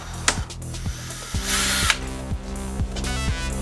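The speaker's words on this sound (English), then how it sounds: "I'm gonna get a little drill and just drill a hole in here so it can drain" A power drill whirs close by in short repeated bursts, drilling a drain hole in plastic on a Crown Victoria, its motor pitch rising and falling, with a louder grinding stretch as the bit bites through.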